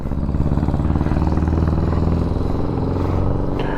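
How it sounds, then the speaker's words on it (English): Custom motorcycle powered by a VW engine rumbling past, a steady loud throbbing engine note held throughout with no talk. "he's on his custom VW bike"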